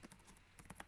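Keystrokes on a computer keyboard while typing a shop name into billing software, a quick cluster of light clicks, a pause, then another burst, close and fairly quiet.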